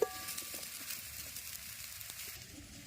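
Green plantain pieces fry in a pan with a steady, gentle sizzle and faint crackling, with occasional soft stirring taps, close and without talk.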